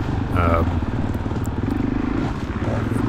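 Suzuki DRZ400E dirt bike engine running during a cross-country race ride, a steady loud low drone with some clatter and brief rises in revs throughout.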